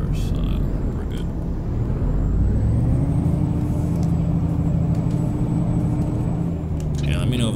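Truck engine in Euro Truck Simulator 2 holds a steady, loud low rumble and drone throughout, with a faint high whine above it and a brief hiss near the end.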